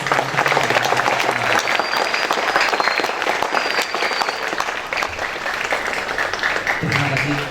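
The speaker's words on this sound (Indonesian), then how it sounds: "Tepuk tangan untuk kita semua." Sustained applause from a large gathering at a youth pledge ceremony held at a vocational high school, dense steady clapping filling the whole stretch with a few voices mixed in underneath.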